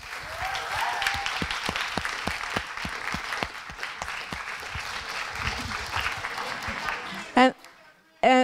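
Seated audience applause for student teams at a master's project defence session, a run of clearly separated claps building into steady clapping, then a voice breaks in near the end.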